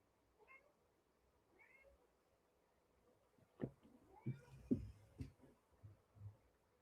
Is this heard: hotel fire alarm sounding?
no